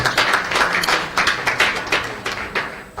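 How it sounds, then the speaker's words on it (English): A conference audience applauds the Group of Corporate Online Publishers, a fairly loud, steady patter of many hands clapping together without a break. "a round of applause to GOCOP"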